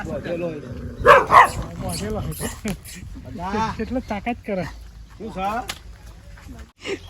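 A dog barks and yips close by, mixed in with people talking over it throughout.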